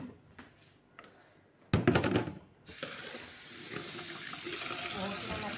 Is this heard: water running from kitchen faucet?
yes